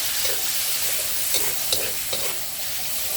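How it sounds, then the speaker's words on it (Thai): Minced pork fries with garlic in a pan, giving a steady loud sizzle throughout with a few soft scraping stirs of the spatula. "ตอนนี้กระเทียมเราก็หอมแล้วค่ะเยมนก็จะ รวนหมูให้สุกนะคะ"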